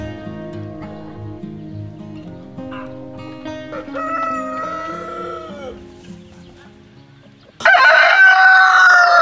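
Chickens and a rooster in the coop of a resort farm: a loud rooster crow bursts in near the end, after several seconds of quieter clucking and fowl calls with steady farmyard sounds behind.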